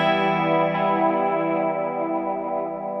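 Electric guitar run through atmospheric effects such as chorus, distortion and echo, picking four notes in turn from the 4th string up to the 1st. The notes blend into a sustained, washy, reverberant tone that stays loud and slowly fades.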